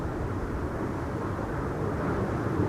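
A business jet at Schiphol's Buitenveldertbaan runway makes a steady, broad jet roar that holds constant throughout, distant but loud, with no voices over it.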